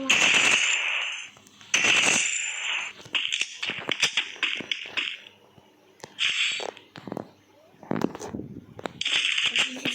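Rapid bursts of first-person shooter gunfire, sharp automatic volleys and single shots repeating loudly through the whole stretch with brief gaps between them, with no voice present.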